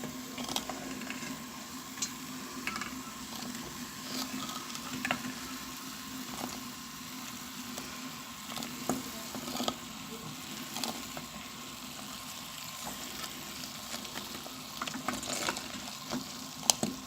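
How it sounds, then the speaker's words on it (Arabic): Lavender oil heating in a pan while being stirred toward a boil gives a faint, steady sizzle with scattered soft scrapes and clicks, close and quiet, with no talking. "غادا نبقى نحرك فيها بحال هكا حتى توصل درجه الغليان"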